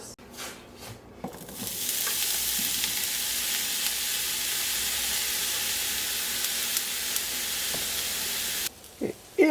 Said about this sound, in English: we're going to add our chopped eggplant to this